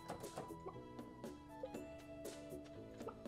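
Chickens cluck in the Stardew Valley co-op farming game, soft repeated clucks over steady upbeat game music with plucked and chiming tones throughout.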